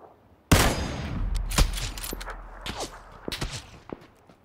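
Gunfire in PUBG crackles in rapid volleys, opening with a loud, sharp burst, then more scattered shots and distant cracks trailing off over several seconds.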